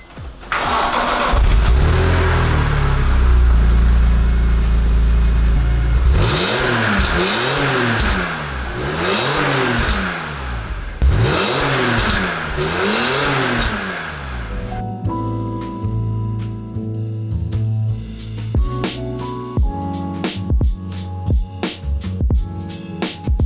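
A BMW E46 M3 engine with stock exhaust cranks and starts, then revs up in several sharp repeated bursts, loud and close, before settling into a steady idle with rattling tones.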